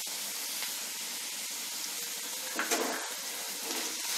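Onion, green onion and capsicum frying in a pan for veg Manchurian, giving a steady, even sizzle heard close with a few faint clinks and stirring scrapes and no talking.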